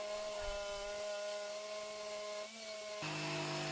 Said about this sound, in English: I then drill 4 pilot holes, one in each corner of the mortise, so I can cut this out with a jigsaw.